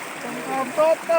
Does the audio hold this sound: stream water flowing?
yes